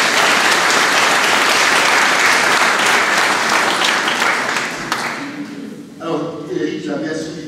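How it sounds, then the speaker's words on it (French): Loud, dense applause from an audience gathered for a village church anniversary, a sustained roar of clapping for about five seconds that then thins and fades, with voices emerging afterward. "Merci, on vous applaudit très fort."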